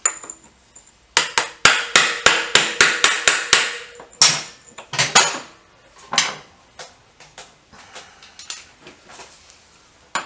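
Hammer strikes on a socket to loosen a stiff, rusted nut on a 350 BSA motorcycle gearbox: a rapid run of about ten sharp metallic blows, then scattered louder and softer knocks, close and without talk.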